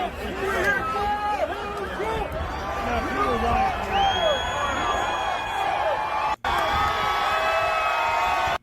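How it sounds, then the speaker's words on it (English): A large outdoor crowd cheers and whoops continuously, with many overlapping voices, whistles and shouts forming a dense, lively roar that holds steady throughout. "Do they even know why they're cheering?"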